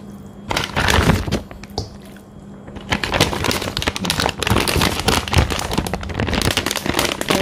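Crinkly plastic rustling and crackling, close and continuous, with sharp crackles throughout as a plastic bag is handled and scrunched while marinating chicken.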